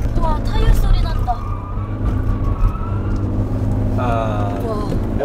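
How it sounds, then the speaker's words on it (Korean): Tires of a Kia Carnival squeal in drawn-out, wavering screeches during hard cornering under a steady engine drone, while voices talk over the noise. "와, 타이어 소리 난다."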